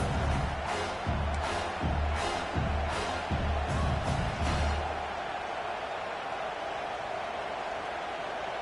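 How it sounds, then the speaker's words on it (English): Stadium crowd noise in an NCAA college football video game, South Carolina versus Georgia: a loud, steady roar with rhythmic surges of chanting or clapping in the first half that then settles into a continuous wash of noise. "this crowd is at fever pitch"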